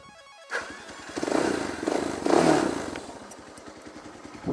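A motorcycle engine with its dB killer removed cranks and fires up after a quiet moment, settling into a loud, rough, throbbing idle with rapid pulsing beats.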